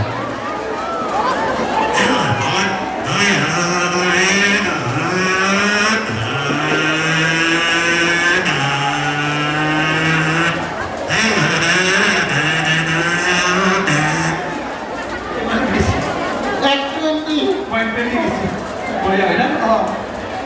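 A voice imitates a Yamaha motorbike engine revving, with rising and falling buzzing tones repeated over and over, loud and close, during a live comedy show.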